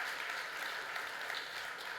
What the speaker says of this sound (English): let's hear some claps then